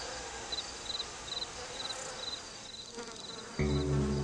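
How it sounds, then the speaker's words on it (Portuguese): Small flies buzzing in a garden, faint thin whines coming in short repeated bursts over a low outdoor background, ending with a louder steady hum. "onde existam frutas no seu jardim, haverá moscas das frutas"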